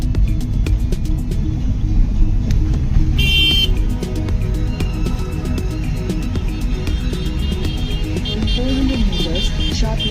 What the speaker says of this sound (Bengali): বাবা, হাইওয়েতে আজকে তো খুব ট্রাফিক আছে